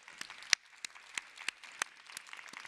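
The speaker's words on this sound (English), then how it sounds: "How could we forget the applause?" Sparse applause from a conference audience, scattered distinct claps rising over a soft bed of clapping, moderately distant and fairly faint.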